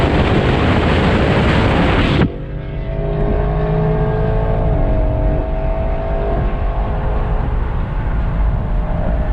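Cars, including a Mustang, accelerate hard in a roll race on the road, heard from inside a moving vehicle; heavy wind rush at first gives way to a sustained engine roar.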